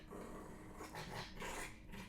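Dogs growling in a continuous, fairly faint low rumble with rough, snarling swells, heard alone without talk.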